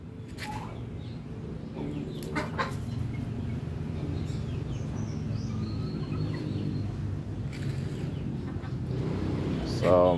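A male turkey on a native chicken farm gobbles and calls faintly in the background, with a brief clearer burst near the end, while people talk over it throughout.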